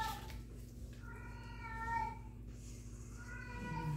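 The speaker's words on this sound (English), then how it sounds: "tell them what's the name of the cat that's making noise" A house cat meows a few times in a kitchen during brownie baking, drawn-out tonal cries, faint and somewhat distant, against a low steady background hum.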